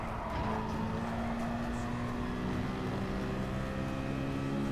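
A Citroen Gr3 race car in GT Sport at the St Croix circuit, with a steady loud engine drone holding at high revs throughout and no talk.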